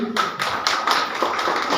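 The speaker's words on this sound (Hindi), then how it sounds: "इनके लिए जबरदस्त ताली।" Applause breaks out from an audience at a business training seminar, a quick burst of clapping that holds steady for about two seconds.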